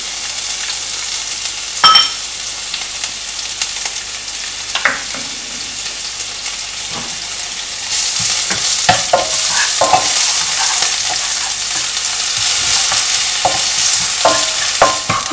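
Ginger and green chilies with cumin sizzle in hot oil for samosa filling, a continuous frying hiss with repeated spoon scrapes and taps against the pan, the sizzle growing louder and denser partway through.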